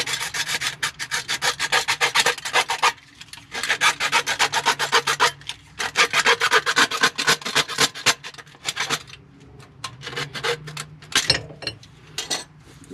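Hand sawing or rasping through a plastic drain pipe to trim off about half an inch during a commercial basket strainer and drain replacement, heard as steady close rhythmic back-and-forth strokes in bursts with brief pauses.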